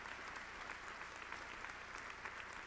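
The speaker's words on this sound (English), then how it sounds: "Give me a round of applause for the idea" Audience applauding at a graduation keynote address, a steady, dense patter of many hands clapping, fairly distant and evenly sustained throughout.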